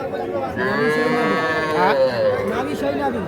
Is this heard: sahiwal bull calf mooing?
yes